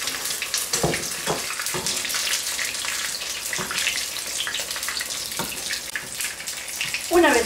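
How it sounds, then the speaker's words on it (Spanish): An egg fries in very hot oil, giving a steady, close, dense sizzle with scattered crackles and pops throughout and a brief louder burst at the end. "Cuando el aceite esté bien caliente, le pondremos el huevo."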